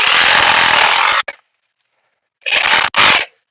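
A loud chainsaw cutting branches roars for about a second, cuts out, then revs again in two short bursts after a pause.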